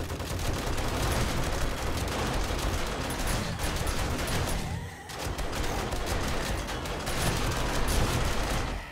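In the video game 7 Days to Die, shotgun turrets fire during a Horde Night, a dense and continuous run of loud blasts with a brief lull near the middle before the firing resumes.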